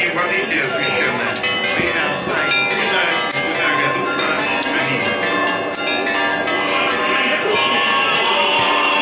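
Church bells ring continuously and loudly at a church bell handover in Taganrog, a dense clanging wash of overlapping tones with a crowd murmuring underneath.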